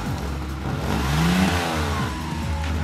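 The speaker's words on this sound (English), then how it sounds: "Give it a little bit of gas" Car engine revving after Seafoam was fed through the PCV valve, a steady mid-pitched idle that rises into a short rev and eases back, loud and close with no talk.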